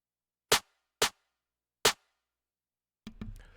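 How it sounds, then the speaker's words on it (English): Programmed snare drum in FL Studio for a hood trap beat, three sharp isolated hits with offbeat spacing in near silence, followed by a brief muffled noise. "here's the snare"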